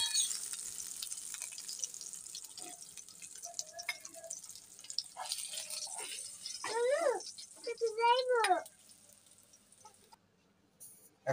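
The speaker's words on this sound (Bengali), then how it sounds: "মাছগুলোকে উল্টিয়ে পাল্টিয়ে ভালোভাবে ভেজে নেই" Hilsa fish frying in a pan gives a soft, continuous sizzle under nearby talk, with a few clattering sounds as the pieces are turned, fading toward the end.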